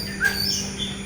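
A few birds call and tweet in the morning at a moderate distance, short rising chirps scattered over a low steady hum, no voices.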